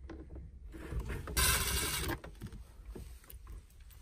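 A 10 mm ratchet loosens a center console bolt inside a Lexus IS, giving a burst of close mechanical clicking and rasping in the middle of the clip with quieter handling noise around it.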